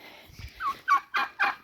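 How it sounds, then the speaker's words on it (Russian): A turkey at a rural homestead gobbles in a rapid run of four or five warbling calls, close and fairly loud with no voices over it. "Индюшка."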